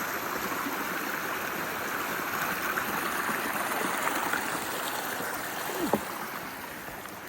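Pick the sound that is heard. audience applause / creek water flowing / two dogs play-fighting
creek water flowing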